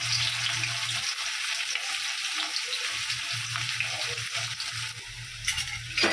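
Steady crackling sizzle of finely chopped onions frying with browned garlic in a hot pan, loud and close, with occasional soft scraping.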